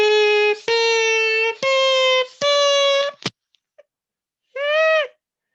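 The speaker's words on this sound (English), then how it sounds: "as the length of the straw changes, the pitch of the sound changes" Drinking straws cut to different lengths blown in a quick run, giving a string of reedy, buzzing tones that step up in pitch, then a soft pop and one last short toot after a brief pause.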